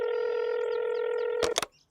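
Beeping dial tones from a small flip phone being dialed, a steady tone running alone for over a second before a few quick, loud bursts.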